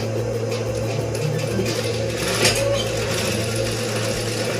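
A sewing machine stitching a men's shirt collar, running in a steady close mechanical whir with a rapid rhythmic needle clatter throughout, no voices.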